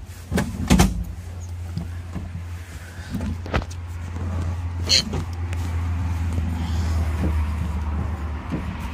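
Clunks and a sliding mechanical rattle come from a car seat being adjusted inside a Mazda RX7, close and moderately loud under a steady low rumble, with a person talking.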